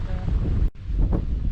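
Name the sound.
strong wind on a Dartmoor tor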